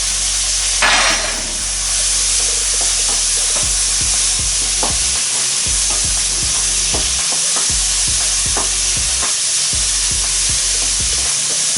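Spring onions are stir-fried with sesame oil in a hot pan while the cook makes ginger shiitake mushroom noodles. Loud, continuous sizzling runs throughout, with a sharp hiss near the start and repeated scraping stirs and clanks.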